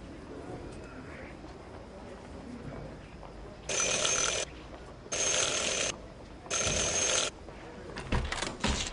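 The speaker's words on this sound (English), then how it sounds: "Ring 3 times for urgent matters." A bell in the video game Syberia: The World Before rings three times in even bursts, each about a second long with a short gap between, over a quiet game ambience.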